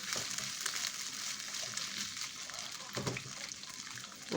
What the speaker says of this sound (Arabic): هشوحه في الزيت